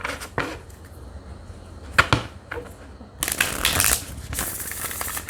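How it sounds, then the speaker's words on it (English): Tarot cards are shuffled repeatedly at close range, with crisp riffling bursts and soft slaps between quieter pauses. "That was a lot of shuffling too."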